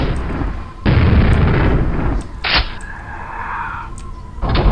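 Rocket explosions in the shooter game Quake (Scourge of Armagon mission pack): a broad, loud blast roars in around the one-second mark and rumbles on, followed by a sharp burst and further muffled booms with no talking.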